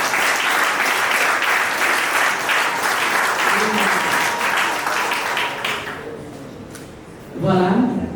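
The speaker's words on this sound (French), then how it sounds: "On applaudit pour la femme." Guests at a civil wedding ceremony applaud loudly and steadily for about six seconds, then the clapping fades and a voice speaks.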